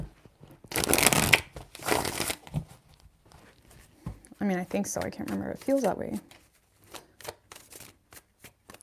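Tarot cards shuffled by hand in a dense, crackling riffle lasting about two seconds near the start, followed by a calm conversational voice with a few faint card flicks in between.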